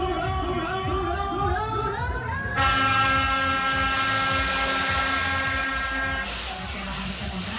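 A fairground ride called Saltamontes at a town fair runs at maximum power and speed, giving a loud, steady mechanical whine with rising and shifting tones that fill the air continuously.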